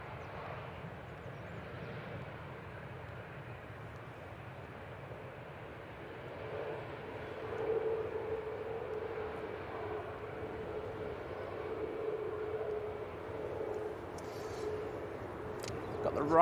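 A Ryanair jet lining up on the runway at Manchester Airport gives off a steady, distant engine rumble that swells slightly partway through, heard outdoors under occasional talk.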